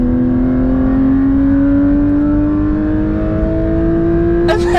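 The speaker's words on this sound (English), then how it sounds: "Porsche wants you to hear that naturally aspirated flat six." A Porsche 992 GT3's naturally aspirated flat-six revs up in one long, smooth climb, its pitch rising steadily over several seconds, loud and close, with a brief mechanical click near the end.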